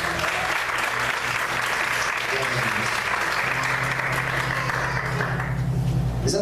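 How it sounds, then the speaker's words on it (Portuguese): Sustained applause from a church congregation during a sermon, steady and full throughout, with a voice speaking over the clapping. "Vamos aplaudir o Senhor."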